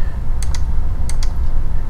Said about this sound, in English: I'm going to push the keyboard shortcut with the letter V on your keyboard